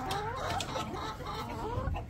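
Small hens clucking softly nearby, several short rising and falling calls overlapping against a faint background hiss.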